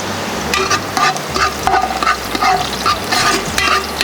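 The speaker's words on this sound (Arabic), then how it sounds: "اشقر البصل ويا الثوم" Onion and garlic frying in a hot pan, a steady sizzle with scraping stirs in a loose repeating rhythm, close and fairly loud.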